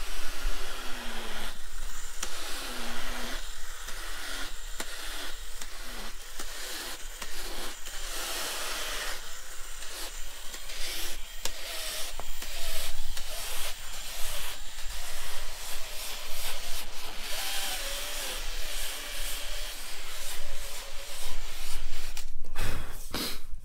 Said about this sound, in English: it's just an inflatable bladder that allows you to do this